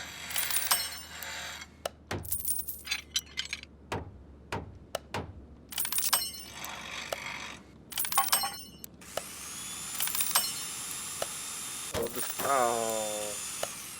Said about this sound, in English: I do love the sound of power tools in the background.